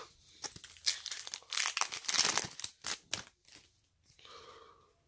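A Pokemon TCG Lost Thunder booster pack's foil wrapper is torn open and crinkled up close, in several sharp bursts of ripping and crackling, followed by softer rustling.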